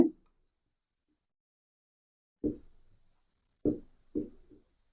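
Writing during a Bengali grammar lesson comes through as a few short, separate strokes, one at the start and three more near the end, each a soft close scrape or tap with silence between.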